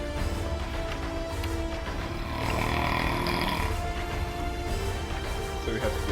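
A loud, rumbling snore repeats steadily up close, heavy and bear-like, with faint background noise underneath.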